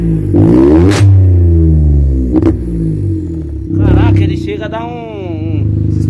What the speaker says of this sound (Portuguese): ouve só esse ronco, o carro vibra tudo